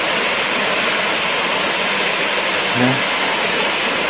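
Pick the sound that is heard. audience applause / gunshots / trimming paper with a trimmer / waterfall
waterfall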